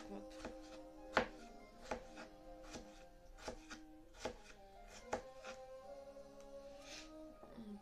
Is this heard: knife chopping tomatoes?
yes